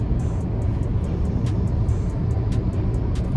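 Steady wind and road rush fill the cabin of a small BYD Dolphin Surf electric car while driving, a constant broadband roar with faint ticks above it and nobody speaking.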